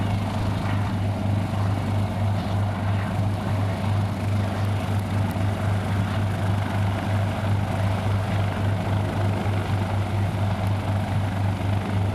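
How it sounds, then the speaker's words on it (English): A propeller aircraft's engine drones steadily at the EAA AirVenture 2021 air show, a loud, constant, unbroken roar with a strong low hum and no talking. "Let's listen to this wonderful aircraft."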